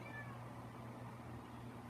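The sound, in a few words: cat meowing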